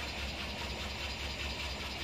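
A Toyota Avanza engine idles steadily with a low, even rumble and a faint mechanical ticking, close by and unbroken, with no talking.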